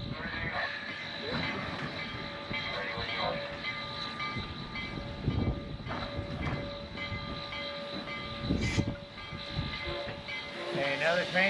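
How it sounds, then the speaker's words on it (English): The Cumbres and Toltec Scenic Railway train in Chama, New Mexico, rumbles steadily as it comes in, with a sustained tonal hum and occasional clanks, while people talk nearby. "Hey, now the train's coming in, guys."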